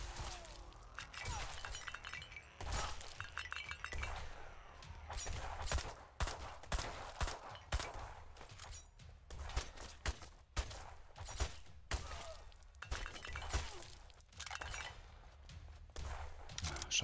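Sniper fire in the game Black Skylands, heard as repeated sharp cracks and shattering bursts in irregular clusters over a dense, noisy backdrop of action sounds, loud and fairly close throughout.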